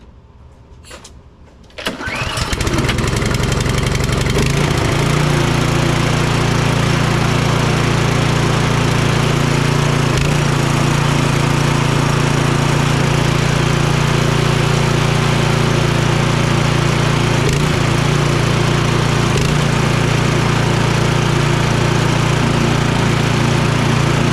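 A Troy-Bilt Storm 2660 snow blower engine on choke catches after about two seconds of quiet and then runs loud and steady for the rest of the time, with a constant low drone and no talking.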